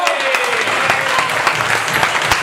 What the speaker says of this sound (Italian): Un applauso a tutti quanti.